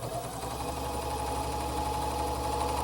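Close, loud, continuous motor whir of a serger sewing machine stitching a fabric placket, steady throughout with no pauses.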